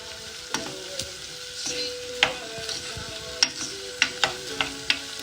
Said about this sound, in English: And stir all together.